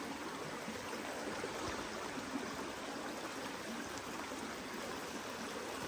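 A creek running high after a thunderstorm at a campsite, a steady broad rushing of water close by, unbroken and without voices.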